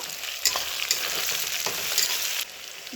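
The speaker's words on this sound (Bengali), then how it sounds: "ভালো করে কষিয়ে নেব।" Tomatoes and ginger-garlic paste fry in a pan with a steady, dense sizzle, and a few light stirring scrapes cut through it at close range, with no voices.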